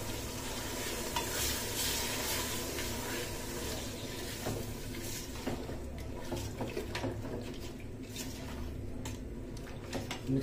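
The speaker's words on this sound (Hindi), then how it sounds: "वन के जी मटन ऐड करने के बाद इसको मिक्स करेंगे।" Mutton stirred and frying in a pot for biryani, a steady close sizzle with scraping spoon strokes against the metal running throughout, no voices.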